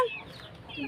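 A young chick gives a few high, thin chirps, close by and fairly faint, in a brief moment.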